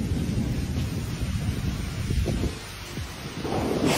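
Low rumbling thunder rolls over a steady wash of rain and wind, fairly loud and continuous throughout.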